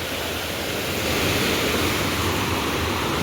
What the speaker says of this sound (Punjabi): ਸਾਰੀ ਨਹਿਰ ਉੱਪਰ ਦੀ ਚੱਲ ਰਹੀ ਆ ਭਰੀ